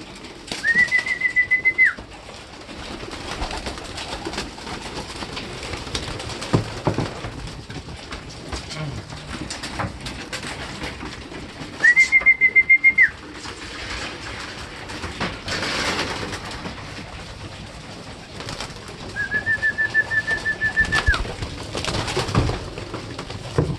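Pigeons coo softly in short bursts, three distinct calls spaced apart over a steady background of outdoor noise.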